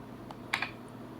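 A few quiet keystrokes on a computer keyboard as an address is typed in, two or three soft, close clicks against a low background hum.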